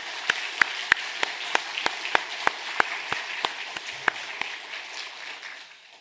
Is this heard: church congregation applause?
yes